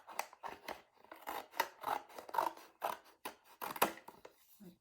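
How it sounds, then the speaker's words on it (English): Scissors cutting paper for a simple bird's nest craft, a steady series of close, crisp snips and rasping slices with brief pauses between cuts. "So I'm just going to kind of cut around"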